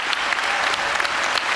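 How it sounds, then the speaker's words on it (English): Audience at Star Wars Celebration Europe 2016 gives a loud, steady round of applause for the cosplay contestants, dense clapping filling the hall without pause. "So let's give everybody who's entered a huge round of applause."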